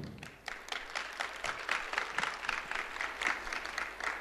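Applause from an audience at a book-days talk, a continuous, moderately quiet patter of many hands clapping that holds steady from start to end.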